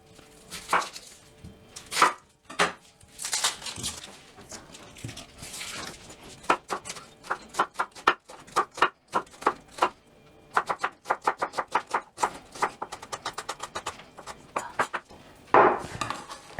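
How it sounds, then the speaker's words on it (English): Knife chopping an onion on a cutting board, a long run of crisp, irregular taps in quick bursts with short pauses, close and fairly clear with no talking. "First, let's start with cutting the onion."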